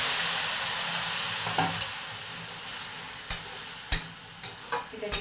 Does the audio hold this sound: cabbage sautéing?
yes